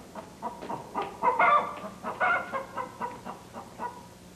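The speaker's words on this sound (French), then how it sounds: "La poule est sur la table." Hen clucking in a steady series of short, fairly close calls with a couple of louder bursts midway, no voices present.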